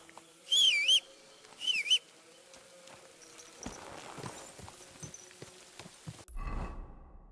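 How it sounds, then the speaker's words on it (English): A character whistles a rising and falling melody in Kingdom Come: Deliverance II, two short phrases near the start over quiet ambience, followed by soft hoof-like clopping and rustling. "Stop that whistling"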